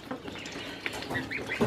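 Ducks and geese on a poultry breeding farm, including white Allier ducks, American Pekins and Toulouse geese, give several short, overlapping nasal calls and quacks at moderate distance, with no talking.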